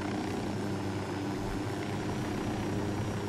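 A helicopter flies in the video game Ghost Recon Wildlands, giving a steady, close rotor-and-engine drone that holds even and unbroken throughout with no talking.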